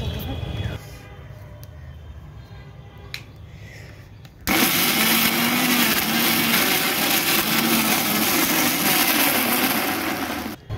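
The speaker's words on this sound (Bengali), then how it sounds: "করে মিক্সার গ্রাইন্ডারে দিয়ে দেব এবং এই আলুগুলোকে পুরোপুরি মিক্স করে নেব।" A mixer grinder starts up with a loud, steady whirring roar as it blends potatoes with a little water. Quiet handling noises and a few clicks come first.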